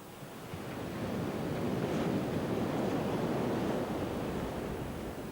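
Steady, broad surf from waves at Oxwich Bay beach in South Wales, a continuous wash of breaking water swelling slightly midway, with wind-like hiss and no voices.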